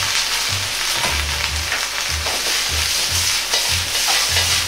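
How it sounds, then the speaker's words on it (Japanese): Cabbage and fried tofu (aburaage) stir-fried in a hot oiled pan for a spicy dish, a steady loud sizzle broken by repeated low scraping and tossing strokes at a regular rhythm, with no talking. "キャベツを入れ炒めます"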